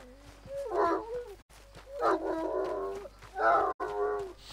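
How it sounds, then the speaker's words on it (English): Upset dog in the Red Dead Redemption 2 video game, heard in three drawn-out whining howls separated by brief pauses, fairly close and clear against a quiet low hum. "That is an upset dog."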